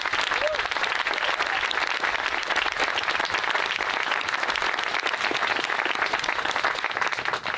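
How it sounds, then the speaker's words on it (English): Applause for the band at a Marine 2nd Radio Battalion change of command ceremony, a sustained, dense crowd clapping that holds steady throughout, with a brief spoken word near the end. "So if we could, one more round of applause for the band."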